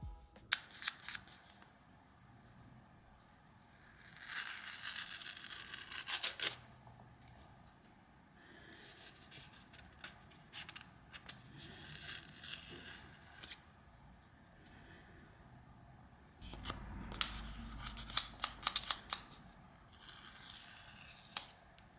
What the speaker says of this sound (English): You can actually see that the outer sleeve is able to shift around before the pull tabs are pulled.